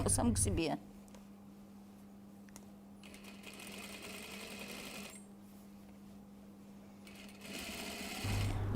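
Sewing machine running steadily as it stitches a 1 mm seam along the facing of a cashmere jacket, a close, continuous hum in long runs with brief pauses, bracketed by short bursts of handling noise at the start and end.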